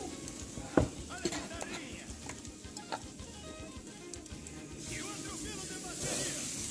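Meat roasting on a grill at a home Sunday lunch gives a soft, steady sizzle with faint crackles and a few sharp clicks, fairly quiet and close, while voices murmur in the background.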